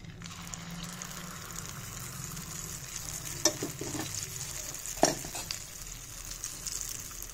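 Wheat flour appalu (sweet fritters) frying in oil, with a continuous bubbling sizzle and a couple of brief knocks from stirring or turning in the pan, no talking.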